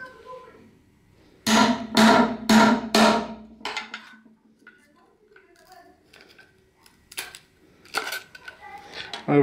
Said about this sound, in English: I break this one part.